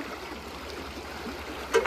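A fast river beside new Utah home builds flows past a retaining wall with a steady, moderate rushing murmur, ending in a brief nearby knock or splash.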